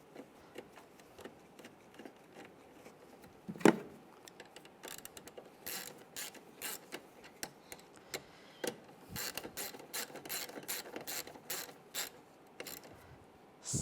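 Small metal clicks and ratcheting as a nut is snugged down onto a fog light wire terminal on a 2004-2009 Toyota Prius, with one sharper knock near the start followed by a steady run of close, quiet clicks.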